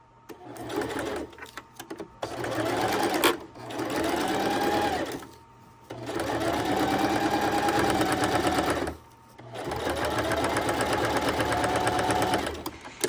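A sewing machine runs in several long bursts with short pauses between, its motor loud and labouring as it stitches through heavy canvas material.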